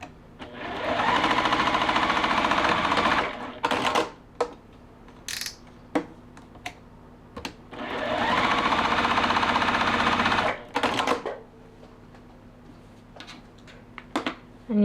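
A sewing machine stitches pillow binding along a drawn line in two loud, sustained bursts of motor whir and needle chatter, each followed by clicks and fabric handling close by.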